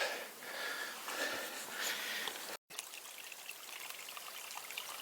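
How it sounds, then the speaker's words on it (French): Water trickles and burbles steadily, a soft continuous flow with a brief dropout midway, recorded close with no voices. "Un ruisseau"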